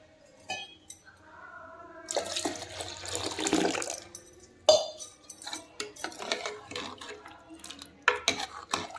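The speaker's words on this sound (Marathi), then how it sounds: "तर आता याच्यामध्ये गरम पाणी टाकून घेते." Hot water is poured into a pot of dal for a couple of seconds, followed by clinks and scrapes of utensils stirring.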